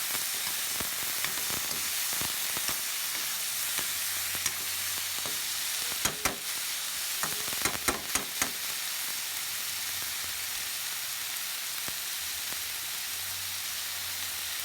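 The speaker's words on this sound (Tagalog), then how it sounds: "Lagay na natin ang ating gulay." Vegetables for pinakbet sizzling in a pan, a continuous close frying hiss with a few sharp clatters of a utensil against the pan near the middle, no talking.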